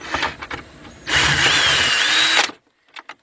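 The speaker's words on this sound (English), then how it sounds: "let's get our cordless drill, which already got our setup on it" A cordless drill fitted with a 1/4-inch drive extension and 10mm swivel socket tightens bolts on a 2000 Isuzu Rodeo 3.2, giving a short tap, then a loud close whirring burst of about a second and a half before stopping, followed by small clicks.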